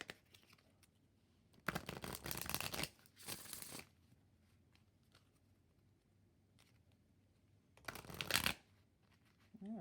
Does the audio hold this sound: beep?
no